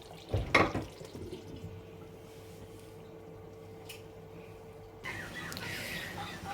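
Peanut sauce for chicken simmering in a pot gives a soft, steady low bubbling with faint plops, mostly quiet and continuous.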